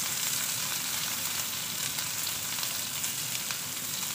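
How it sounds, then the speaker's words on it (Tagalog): Garlic and onion sautéing in a pan for pork kaldereta, a steady, even sizzle and crackle of frying close by, continuous and unbroken with no talking. "pabanguhin lang din natin ating bawang at sibuyas"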